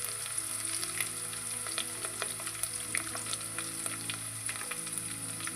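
Curry leaves with crushed garlic and ginger fry in hot oil in a pan, giving a loud, steady sizzle with scattered crackles and stirring scrapes throughout.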